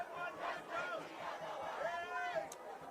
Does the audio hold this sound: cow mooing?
no